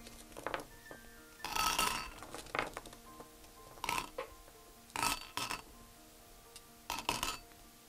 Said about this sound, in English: you're going to put your glass marbles in the bottom here